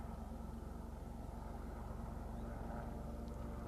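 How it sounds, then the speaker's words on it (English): A plane passes overhead outdoors, heard as a steady, broad low engine roar that stays constant throughout without any speech. "This plane is almost flying over."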